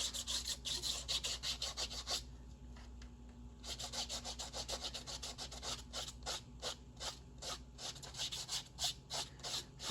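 A finger rubs paint off a wooden surface, producing repeated dry scratchy strokes in quick rhythmic bursts, close and fairly loud, with a brief pause partway through and no talking.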